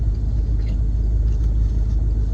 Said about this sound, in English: if the engine noise is annoying, let me know